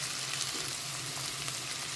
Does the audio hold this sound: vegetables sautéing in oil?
yes